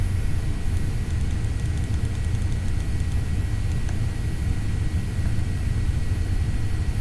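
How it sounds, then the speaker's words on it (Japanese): Airplane cabin before takeoff on a short business-class hop from Malaysia to Singapore, a steady loud low engine and ventilation rumble that fills the clip without change, no talk. "まもなく離陸です"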